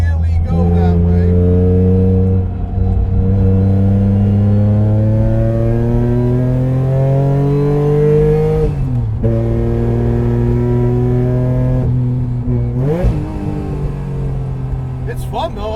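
A 700 hp supercharged Acura TL on a race track, its engine loudly climbing through long rising revs, dropping sharply on a lift-off, then pulling up again under throttle, heard from inside the car.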